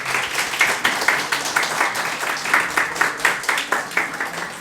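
A church congregation applauds at a year-end Sunday worship service, a steady patter of many hands clapping together at moderate loudness, with rhythmic swells and no talking.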